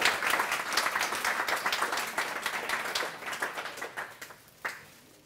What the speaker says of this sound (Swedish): Jag tycker vi ger en applåd till våra två talare.